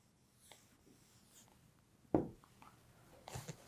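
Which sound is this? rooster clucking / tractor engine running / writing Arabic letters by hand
writing Arabic letters by hand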